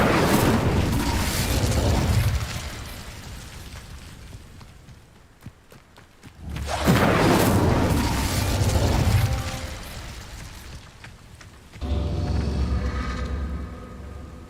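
A fire spell cast in the Hogwarts Legacy video game gives a loud whooshing burst with a low boom, followed by a roaring blaze. A second similar burst comes a few seconds later, then a third.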